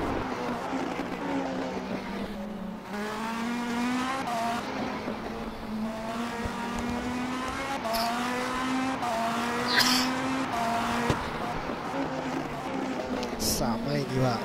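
A race car in the video game rFactor on a qualifying lap at Sao Paulo, its engine whining high and steady with gear changes and rising pitch sweeps, heard close and loud under a commentator talking throughout.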